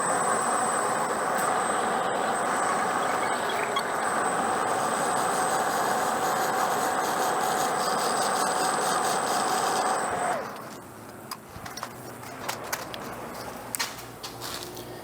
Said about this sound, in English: So I want to put a very shallow chamfer on that edge